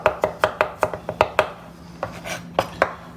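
A kitchen knife chops vegetables on a board with crisp, sharp knocks, a quick run of about eight strokes followed by a few slower ones, close and clear with no talking.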